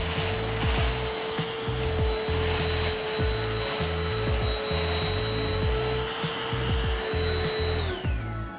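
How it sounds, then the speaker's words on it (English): A Black+Decker cordless vacuum runs steadily with a high motor whine while dry cat food kibbles rattle and clatter up the nozzle in repeated bursts, close and loud, winding down at the end. "see if it can pick up these this cat food, these kibbles"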